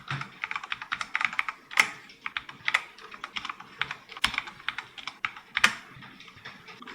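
Steady computer keyboard typing of HTML in a vim editor on a Linux CentOS or Rocky web server setup, quick irregular keystrokes with a few sharper key hits, close and alone.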